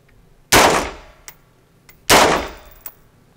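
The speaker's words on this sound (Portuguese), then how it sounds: "Vamos, dois tiros no verde e no amarelo consecutivos, tá?" Two AK-47 rifle shots fired at green and yellow targets, each a loud sharp crack with a ringing decay, spaced about a second and a half apart, each followed by a faint metallic clang of the hit target.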